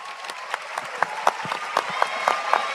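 Audience applause at an Indonesian public event, a steady patter of many hands clapping with sharper individual claps standing out, moderately loud and continuous.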